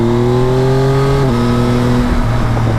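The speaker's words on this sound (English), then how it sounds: "shifting down while accelerating because I was in a high gear" A 2023 Yamaha Tracer 9 GT+ motorcycle engine pulls loudly up in pitch, then drops sharply as it downshifts while accelerating and climbs again, with heavy steady wind roar throughout.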